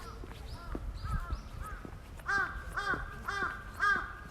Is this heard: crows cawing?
yes